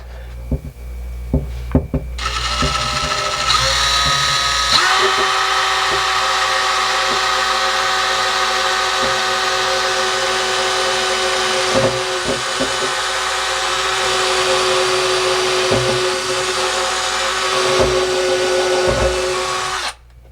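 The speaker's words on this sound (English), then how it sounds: "Let's get in here and drill the small pilot hole right here." A power drill whines steadily into wood, drilling a pilot hole in a kitchen cabinet, for about fifteen seconds, loud and close, after a few knocks and clicks, then stops abruptly.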